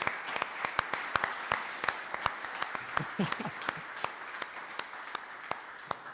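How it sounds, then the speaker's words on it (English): Faint applause from a motivational personal growth seminar audience thanking an organiser, sparse separate claps spaced out over a hushed room, with a brief murmur of voices partway through. "I want to give a massive thanks and a round of applause to Jenna Schwartz"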